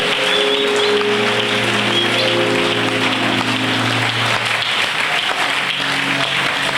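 Sustained applause from a church congregation, a thick rain-like patter of many hands over a held organ or keyboard tone, continuing without a break.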